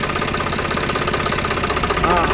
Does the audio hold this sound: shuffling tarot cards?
no